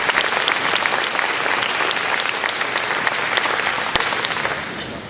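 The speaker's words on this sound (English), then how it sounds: "Let's give them a huge round of applause." Audience applause fills a luncheon hall, steady and dense clapping from many hands for about five seconds, tapering slightly at the end.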